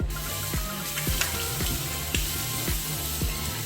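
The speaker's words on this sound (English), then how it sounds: "I'm done rinsing my face" Water splashes repeatedly as hands scoop it up to rinse a face over a running sink, in quick wet slaps about every half second, close up over a steady trickle.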